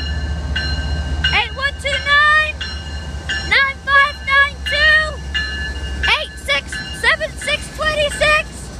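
Amtrak trains pull out of Greenville station, sounding a series of repeated horn blasts over a low engine rumble. Onlookers talk and cheer nearby.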